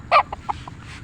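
A young golden boy sweater gamefowl rooster gives one loud, short squawk followed by a few fainter clucks, close by over a low background hum.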